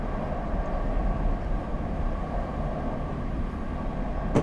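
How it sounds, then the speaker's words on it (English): Train approaching in a Train Simulator game, a low, steady rumble of rolling rail noise at moderate, even level with a brief sharp tone right at the end. "Train's coming."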